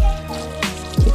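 Water poured over a freshly cut Philodendron Paraiso Verde cutting in its pot, soft splashing and dripping with a brief louder gush near the end.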